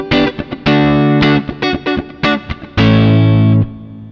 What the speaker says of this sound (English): you can hear the reverb start to kick in a bit more